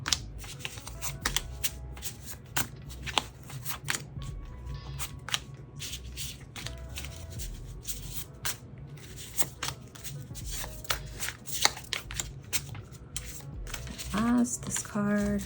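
A tarot card deck is shuffled close up, a rapid riffling flutter of cards with brisk taps and slaps, continuous through most of the stretch with a brief bit of other handling near the end.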